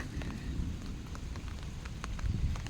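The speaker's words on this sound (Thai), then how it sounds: "ตอนนี้เราถือล่มด้วยนะคะ เพราะว่าฝนตกนะคะ" Steady rain falls in the evening at an abandoned house, a dense, even patter with scattered heavier drops and no voices.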